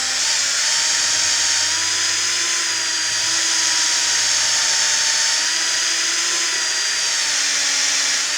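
A power drill boring into the wooden stock of a Gew91 rifle during a repair, a loud continuous high whine with a slightly wavering pitch, close and unbroken, with no talk.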